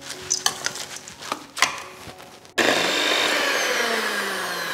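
An electric mixer starts abruptly and runs steadily on love cake batter in a Sri Lankan kitchen, a loud continuous whir that follows a few softer scraping and stirring sounds by hand.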